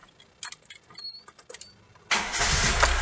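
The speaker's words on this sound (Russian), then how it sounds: "сейчас иду запускать машину" A VAZ car engine cranks and catches, then runs on loudly and steadily after a few quiet clicks and rustles, heard close up with no talking.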